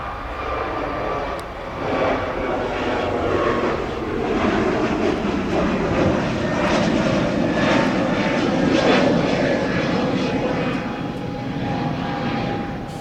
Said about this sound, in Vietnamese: Mời mọi người chiêm ngưỡng pha cất cánh của chiếc Airbus A321 này.